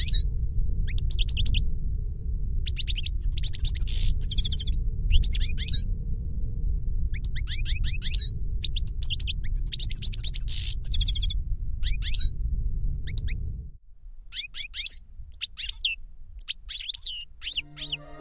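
Melodious songbird warbling in bright, lively phrases repeated throughout, set over a steady low rumble that cuts off near the end, after which the birdsong continues alone and clear.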